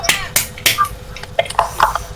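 A group claps the tepuk semangat rhythm as an icebreaker during a teachers' positive-culture dissemination session: three loud separate claps, then a quicker run of lighter claps, close and clear with no talk.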